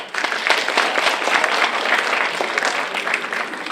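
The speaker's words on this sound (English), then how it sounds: "Go ahead, you can applaud for yourself, 6th grade." Sixth graders at a K-8 academy applaud themselves, a dense, loud wash of many children clapping at once that stays even and sustained throughout.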